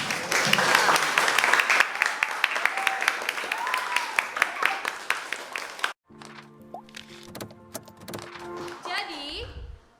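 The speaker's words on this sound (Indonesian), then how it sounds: "beri tepuk tangan untuk Mbak Eka." A classroom full of people claps for about six seconds, dense and lively, then it cuts off abruptly to quieter clicks and a brief tone.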